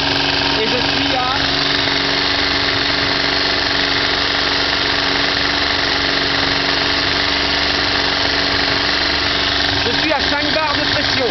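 A Matra Bagheera engine holding steady at 3000 rpm during an oil pressure check, a loud continuous drone with a slight rise and waver near the end, close up.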